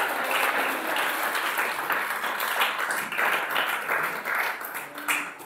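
A church congregation applauds Jesus with steady, dense clapping from many hands that fills the room continuously, loud and close throughout.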